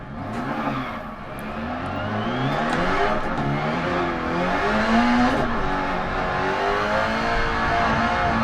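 A rally car engine revving and accelerating hard on a Pikes Peak hill climb in DiRT Rally, rising and falling through gears, loud and close, with faint tyre scrabble.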